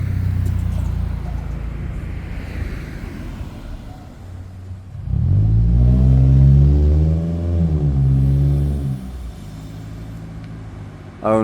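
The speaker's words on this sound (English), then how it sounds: "now that car just took off right behind the other car and didn't really stop at the stop sign" A car pulls away from a stop sign in traffic, its engine rumble swelling into a loud, rising acceleration roar that holds for several seconds before fading back into steady road noise.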